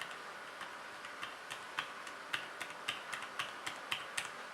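Gentle, soft key presses on an Alcatroz Trilium-BTR 1 keyboard give quiet, evenly spaced light clicks, close up and faint, with no voices.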